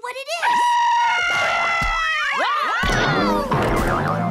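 Cartoon screaming from a Scream Screen in a kids' animated show: loud, sustained overlapping wailing screams with swooping pitch, ending in a jumble of chaotic shrieks.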